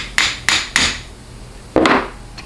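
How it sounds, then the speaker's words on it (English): A hammer strikes a sizer tool on a 4L60E transmission pump, with three sharp metallic knocks in quick succession, a pause, then a fourth heavier blow, close and loud with no talking. "You're probably going to need a hammer to take this sizer off"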